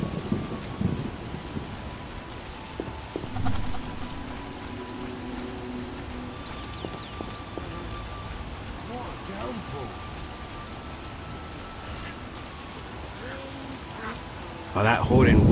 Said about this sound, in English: It'll rain a while.